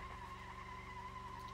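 A taxi in BeamNG.drive does a one-wheel burnout, a steady, continuous tire squeal with a sustained whine held over a droning engine for under two seconds.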